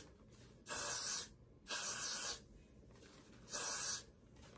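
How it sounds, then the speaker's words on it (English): Got2B hair spray is sprayed onto a wig in three separate hissing bursts, each lasting about half a second to a second, with quiet gaps between them. "And then I spray."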